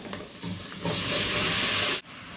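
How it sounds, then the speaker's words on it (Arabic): Grated onion sautés in ghee or oil with zucchini, potatoes, carrots and peas, making a close, steady sizzle that swells midway and then drops off sharply near the end, with no voices. "وادي للخضار برضو تشويحه مع البصل"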